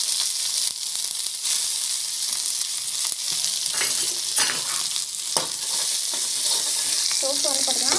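Mustard seeds and cumin sizzle in hot oil with a steady bright hiss, peppered with sharp crackling pops that come in short flurries throughout.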